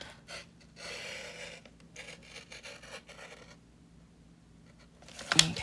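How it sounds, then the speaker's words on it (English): Scissors snip and rasp through paper in a few short strokes, close and fairly quiet, with brief pauses between cuts. "You can just use your scissors. I sometimes don't cut in straightest line."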